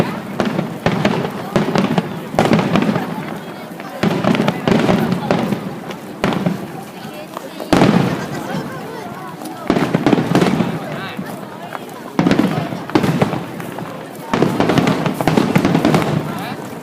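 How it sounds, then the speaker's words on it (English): Fireworks at a Japanese summer festival beside a rice field, booming and crackling in repeated bursts at irregular intervals, fairly loud, with crowd noise and voices in between. "Oh my God, the fireworks! They're so pretty."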